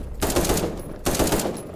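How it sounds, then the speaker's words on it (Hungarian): Video game gunfire in two dense bursts of rapid automatic shots, loud and close, separated by a brief lull, with no talking over it. "hallom itt a lövöldözést"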